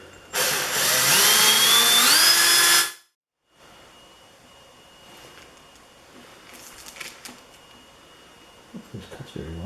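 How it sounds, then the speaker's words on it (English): A loud, high-pitched power drill whines and bites into aluminum for a few seconds, then stops, leaving quiet room tone with faint handling noises. "You want to drill this so that it makes a nice round edge here."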